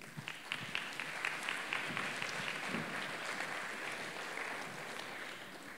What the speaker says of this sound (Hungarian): Úgyhogy köszöntsük őket ismét egy tapssal.